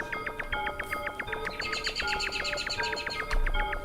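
Repeated bright chirps and trills from a bird in the video game Yume Nikki, a steady run of quick tweeting notes over faint background noise, no voices.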